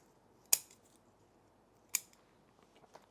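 Bonsai scissors snip a branch off a false olive, two sharp close cuts about a second and a half apart against a quiet background, with a faint third click at the end.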